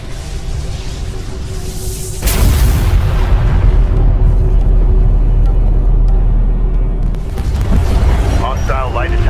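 Weapons fire against a Gaalsien carrier in the strategy game Homeworld: Deserts of Kharak: a sudden heavy boom opens into sustained loud rumbling barrages and explosions, with radio-style voices speaking over the battle.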